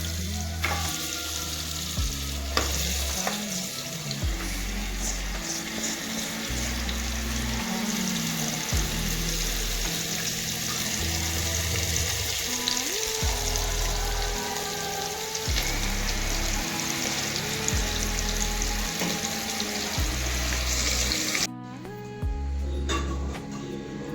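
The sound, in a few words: frying goat trotters in oil in a pressure cooker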